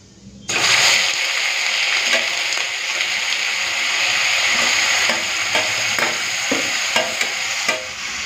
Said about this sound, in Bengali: এইভাবেই বিটটাকে ভেজে নেব।